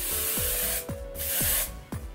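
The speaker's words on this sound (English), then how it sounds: "I'm going to spray it with some hairspray" Hairspray sprayed over freshly flat-ironed spiral curls, a steady close hiss in several long bursts separated by brief pauses.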